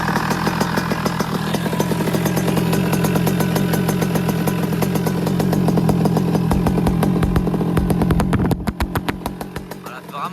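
A Beta track motorcycle engine fires up and settles into a steady, close idle with a rapid rhythmic putter, turning choppier near the end.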